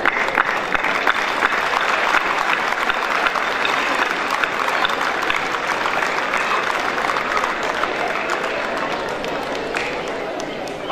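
A large crowd at a college sports day applauds strongly and steadily, a dense wash of clapping that fades slightly toward the end.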